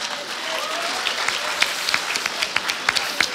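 Audience applause at a concert, dense and steady throughout with crisp individual claps standing out, moderately loud and filling the whole stretch without speech.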